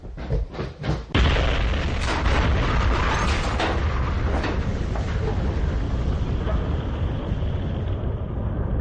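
A bomb hidden in a toolkit detonates in a TV crime drama, a loud close boom after a few short thumps, followed by a sustained roaring rumble of blast and debris that fills the rest of the scene.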